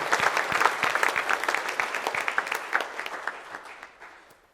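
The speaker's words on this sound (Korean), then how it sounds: "우리 하나님 앞에 감사의 박수 좀 하고 말씀 드립니다." A church congregation claps together during a Korean Sunday worship service, a dense sustained round of applause that gradually thins and fades away.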